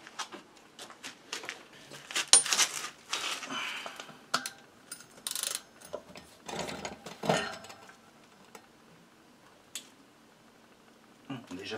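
Ratchet wrench tightening bolts on a 2009 DT 50 motorbike, giving bursts of close, rapid clicking and metallic handling noises with pauses between them, while someone speaks intermittently.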